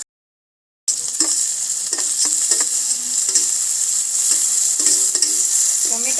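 Chopped vegetables with onion and tomato sizzle steadily in a hot pan, a loud continuous fry with occasional stirring scrapes, heard alone.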